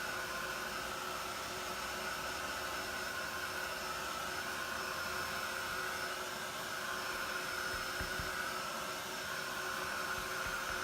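A handheld dryer blows over paint layers on a canvas, a constant loud whooshing drone with a steady whine that holds unbroken from start to finish.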